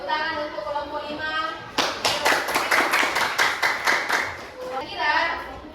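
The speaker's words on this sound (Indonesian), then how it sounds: "Tepuk tangan untuk kelompok 5." A classroom of young students claps in a quick, fairly unified burst for a group, about a dozen rhythmic claps in the middle, with children's voices chattering before and after.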